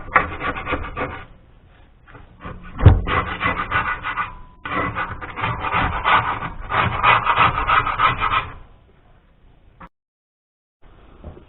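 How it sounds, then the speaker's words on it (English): A freshly sharpened old wood chisel scrapes buildup off an edge in repeated close, raspy strokes, bursts of scraping separated by short pauses, with a sharp knock partway through and silence near the end. "I'm taking this old wood chisel I have here, and it's just been sharpened, but I want to scrape the edge of this."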